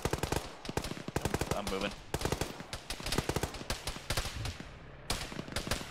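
Automatic gunfire rattles in the Arma military game during a ShackTac session, with dense, rapid bursts of close shots that pause briefly and resume, while a player speaks over the shooting.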